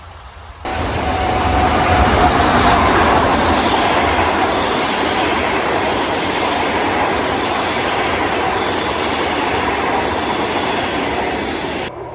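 A passing train rolls by on a railway line, a loud, continuous rumble with rattling wheels that starts abruptly and holds steady for over ten seconds, close to the listener.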